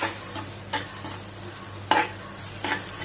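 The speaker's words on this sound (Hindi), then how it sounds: "सभी चीजों को मिलाकर गैस की लो फ्लेम पे अब मसाले को हम अच्छे तरीके से 4 से 5 मिनट के लिए भून लेंगे" Masala being roasted and stirred in a pan over a low gas flame, with a soft steady sizzle broken by several distinct scraping strokes of a spoon, close and fairly quiet, no talking.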